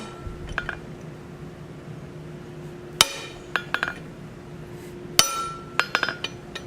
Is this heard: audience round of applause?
no